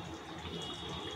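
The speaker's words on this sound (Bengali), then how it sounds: "দিচ্ছি গোলাপ জল" Rose water is poured into a pan while cooking a Punjabi ridge gourd chaap dish, giving a brief, faint liquid trickle with no talking.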